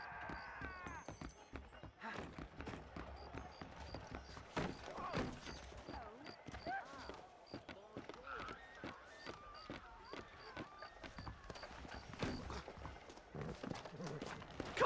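Video game horses gallop, hooves clip-clopping and thudding in a running rhythm, with an occasional whinny, while voices talk over the top throughout.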